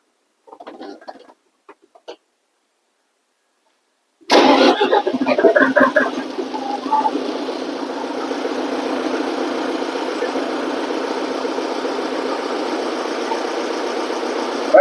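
After a few faint sounds and near silence, a Lovol 354 tractor engine starts and settles into a steady, close, rhythmic idle that continues without talk.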